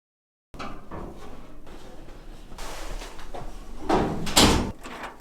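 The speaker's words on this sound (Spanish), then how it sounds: "Cerramos las persianas y la puerta." Shutters and a door are closed at the Cerro Bonete mountain refuge, heard as a run of scraping, rattling handling noises that build to two louder knocks and slams near the end.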